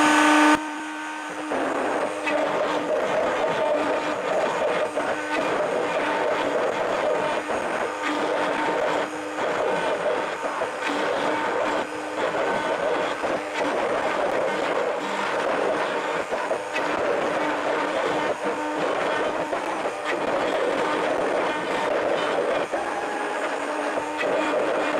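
A router bit spinning at 18,000 RPM cuts steadily, a loud, continuous whining roar that holds nearly unchanged for the whole stretch with no talking.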